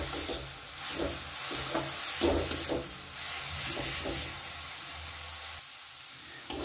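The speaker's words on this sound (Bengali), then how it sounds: "লবণটা দেওয়ার পরও খুব ভালো করে একটু আমি এটা ভাজা ভাজা মতো করে নেব।" Vegetables for Manchow soup frying in a salted pan, a steady hiss with rhythmic scraping and stirring strokes, close and moderately loud, then briefly quieter near the end.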